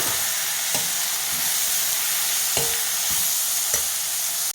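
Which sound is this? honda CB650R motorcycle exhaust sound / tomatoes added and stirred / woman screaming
tomatoes added and stirred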